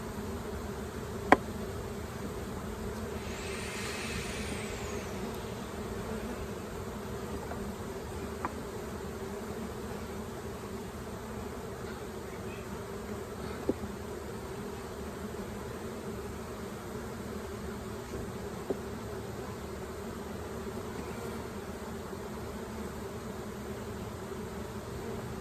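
Honeybees droning loudly and continuously in an open hive during an inspection, a dense, even buzz of many bees close by, with a few faint clicks and no talking.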